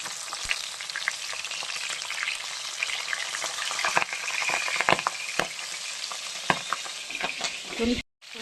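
Pabda fish frying in oil in a pan, giving a loud, steady sizzle with scattered sharp crackles and pops that runs throughout, then cuts off briefly near the end.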